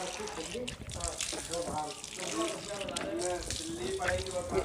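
Tap water runs steadily into a sink while a man washes his beard during ablution before prayer, a close continuous splashing flow with his voice talking over it.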